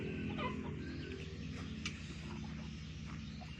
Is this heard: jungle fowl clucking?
yes